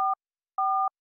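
Telephone keypad dialing tones from the Thimbleweed Park video game: two clean dual-tone beeps, a short one followed after a pause by a longer one, close and clear with no voices.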